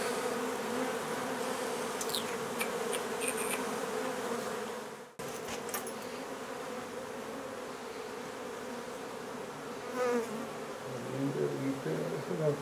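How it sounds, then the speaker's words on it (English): Honey bees swarm and buzz during a hive removal from an old house in Donna, Texas, a dense close hum with a brief dropout midway and a few sharper passes near the microphone. "Queen bee, right."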